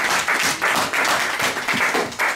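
A church congregation claps in loud, dense applause that swells in rhythmic waves, close and sustained throughout.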